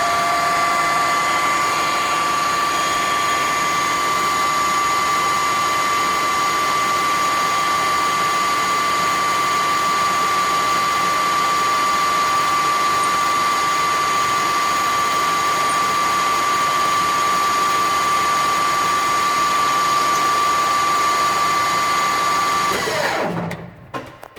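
A metal lathe parting off a pre-drilled workpiece with a parting tool makes a loud, steady mechanical whine with a tonal hum that holds for about 23 seconds, then winds down abruptly near the end.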